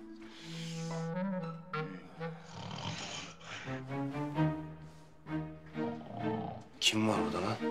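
Loud snoring in a Turkish drama scene rumbles in repeated guttural, growling breaths, close and steady, with a sharp snort near the end.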